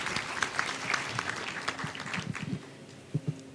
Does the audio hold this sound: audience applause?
yes